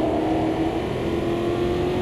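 Racing cars in the sim racing game Automobilista 2 give a steady, droning engine note that holds at an even loudness, with no voices.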